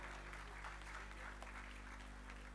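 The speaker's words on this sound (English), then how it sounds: "Claps for Parth, please" A seated audience at a university convocation ceremony claps for a gold medal recipient, steady dense applause that stays level throughout, heard from within the hall.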